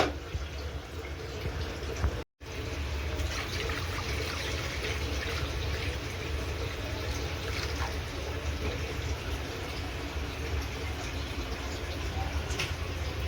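Water trickling and pouring into a cooking pot at home while making cheese pasta, a continuous liquid splash and dribble heard close and steady throughout with a brief dropout early on.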